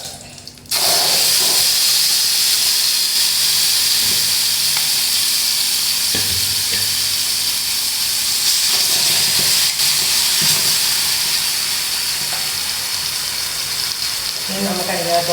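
Onions sizzling in a pan after being dropped into hot oil with cumin and fennel seeds, a sudden onset of loud, constant frying hiss lasting the whole stretch, close and unbroken, with a few faint clinks beneath.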